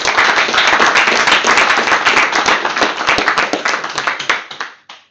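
Dense applause from a meetup audience after a presentation, loud and sustained, then thinning out and fading over the final second.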